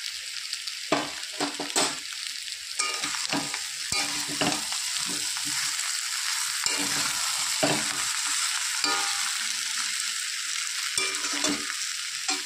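Spices fry and get stirred in a pan for a potato and elephant foot yam curry, giving a constant loud sizzle with repeated scraping spatula strokes and occasional clinks against the pan, close up and without talk.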